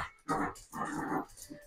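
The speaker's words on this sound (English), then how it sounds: "The dog's attacking my child because he's in the..." A dog attacking a child in a sensory swing makes close, moderately quiet growling and whimpering noises in two or three short bursts, with no talking.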